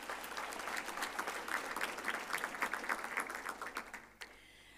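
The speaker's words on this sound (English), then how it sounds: "I think we should give them a round of applause." An audience applauds science honours graduates at a university autumn graduation ceremony on the George campus, a steady, fairly distant round of clapping that thins out and stops abruptly near the end.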